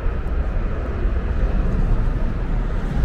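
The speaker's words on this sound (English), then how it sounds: "Can you hear the planes going off?" Loud, steady roar of airplanes taking off at Heathrow Airport, a broad continuous rumble that holds without pause, close and filling the space.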